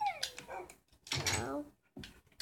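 A dog whimpers and whines in Minecraft, several short high cries rising and falling close by, with bursts of game sound between them.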